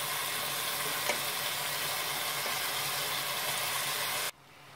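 Macaroni is stirred into vegetables in a hot pan with a steady, loud sizzle and frying hiss that runs on unbroken, then cuts off sharply near the end.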